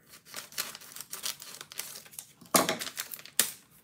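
Scissors snipping and tearing at stiff plastic packaging on a cake-decorating kit, a run of crinkling, crackling cuts and rips up close, with two sharper loud tears near the end.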